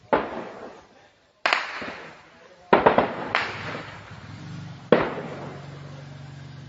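Shelling at the Thai-Cambodian border sounds as a series of sharp, loud blasts, about five over several seconds, each followed by a rumbling decay, with a low background hum between impacts.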